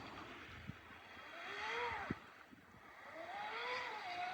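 A 24-inch RC boat on a 4S battery runs fast across the water, its high motor whine rising and falling as it passes at a moderate distance, with a steady outdoor background.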